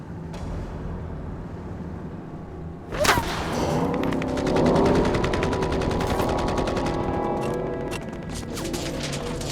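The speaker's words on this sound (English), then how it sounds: "Suddenly, we're taking sniper fire from the shoreline. Everybody opens up." Vietnam War combat footage of a sudden sustained burst of gunfire after sniper fire from a shoreline, a sharp crack followed by dense continuous shooting that stays loud and steady to the end.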